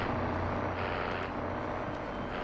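Truck engine droning steadily in Call of Duty: Warzone, a continuous mid-distance rumble of a game vehicle with no talk over it.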